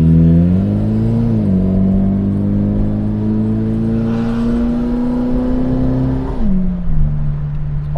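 The engine of a Morris Nomad, an Australian 1100/1300 station wagon, pulls under acceleration with a steady rising hum, drops as it shifts gear, then climbs again. It is heard close from inside, loud and continuous, with no talk.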